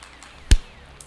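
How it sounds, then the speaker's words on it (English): A single sharp, fleshy face-palm slap lands once, a short loud smack in otherwise quiet surroundings. "That was the sound of me face palming"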